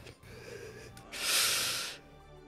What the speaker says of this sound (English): I could hear you breathing heavily